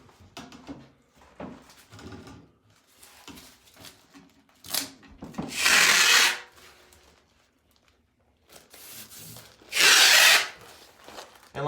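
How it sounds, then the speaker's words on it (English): Masking machine applying masking tape along a ceiling edge during DIY ceiling painting, giving close, loud bursts of ripping, rasping tape noise in two main pulls, with quieter rustling and handling sounds between them. "we're just going to take our masking machine, just make sure to line up this edge"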